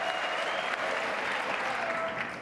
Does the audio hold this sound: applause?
yes